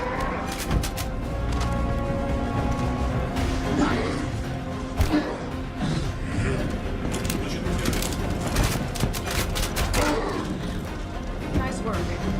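Gunfire in the Squadron 42 prologue, scattered sharp shots and bursts with thuds and impacts, heard under continuous talking and game audio.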